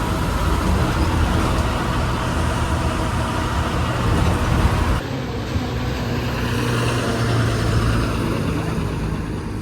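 Steady engine drone and road rumble inside a moving bus bound for Kanur, loud and continuous with no talk.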